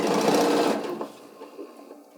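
A sewing machine runs a fast burst of stitching through red Santa hat fabric, loud and close for under a second, then slows to a few quieter ticks as it stops.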